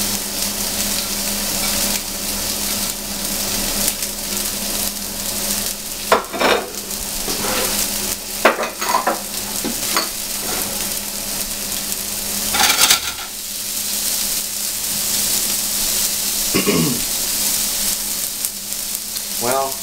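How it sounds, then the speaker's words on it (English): Green beans, onions, garlic and mushrooms fry in a pan with a steady, close sizzle that carries throughout, broken by a few clattering stirs. "So throw in the green beans. A with the onions and garlic."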